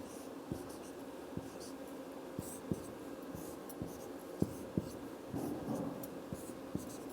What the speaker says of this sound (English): Now first of all we will draw the circle and arrange the 8 persons.